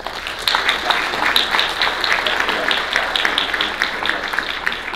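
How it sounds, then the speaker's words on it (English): A lecture audience applauds a scientist after a talk about storms. The steady, dense clapping continues without pause for the whole five seconds. "give a round of applause"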